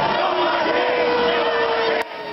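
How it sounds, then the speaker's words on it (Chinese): Loud crowd cheering and jeering as King Charles's gold coronation carriage passes, a dense sustained roar of many voices with whoops, ending abruptly after two seconds. "一片欢呼声中却也听到嘘声"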